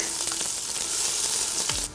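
Onions hiss and sizzle steadily in hot oil for Hadrami rice, a dense close frying crackle with no talking, softening slightly at the end.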